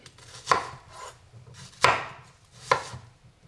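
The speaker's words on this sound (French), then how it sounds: "je vais simplement les couper en quartiers" Three sharp, separate knife strikes through small yellow onions on a cutting board as they are quartered, each a crisp close chop with short pauses between, no voices.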